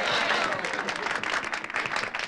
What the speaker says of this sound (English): What are they applauding for?